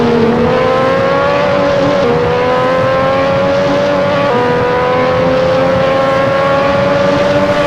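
A Lotus 98T turbo race car on the Interlagos circuit in a racing game, its engine droning loud and steady as it climbs through the revs, with brief dips at gear shifts.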